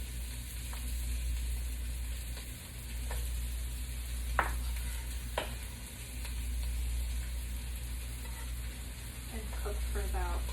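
Ginger and garlic sizzling in a pan, a faint steady frying hiss with a few scattered clinks of stirring utensils against the pan.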